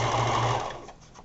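A sewing machine stitches a set-in fabric sleeve in a short, close burst of rapid whirring that cuts off and fades after about half a second.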